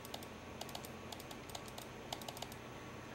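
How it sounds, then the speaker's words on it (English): Rapid, light computer clicks repeating in quick irregular bursts against a quiet background hiss, close and faint, as a URL is highlighted. "I click it over and over just to get it to copy out all of it"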